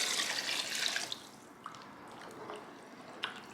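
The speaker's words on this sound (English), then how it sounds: "I'm gonna add another 8 cups of water." Water pours into a pot of ramen broth with a hissing splash that fades after about a second, followed by a few faint drips and small clinks.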